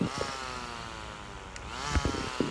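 A CORE gasless rechargeable string trimmer runs on full eco mode, giving a steady whirring motor hum with faint harmonic tones through the clip, punctuated by a few brief thumps and knocks near the end.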